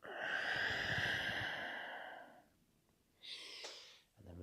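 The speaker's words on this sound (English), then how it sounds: "And exhale." A person exhales deeply and slowly through the mouth during a breathwork meditation session, a long close breathy sigh followed by a brief quieter breath sound.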